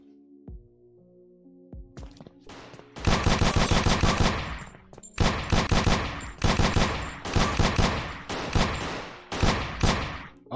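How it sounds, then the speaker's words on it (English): Pistol shots ring out in the AimLab aim-training game, coming as rapid, loud, evenly spaced bursts of gunfire after a few quieter interface clicks at the start. "So I'm gonna play against a little bit of the AI, just the pistol, see how well I do."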